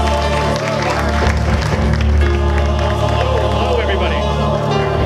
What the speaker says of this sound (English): Let's give another big round of applause, ladies and gentlemen.